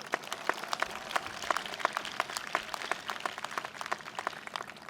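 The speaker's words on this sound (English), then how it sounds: "Give yourself a round of applause." Applause from the audience at a college commencement ceremony, a sustained wash of many hands clapping, steady and moderately distant, with no talk over it.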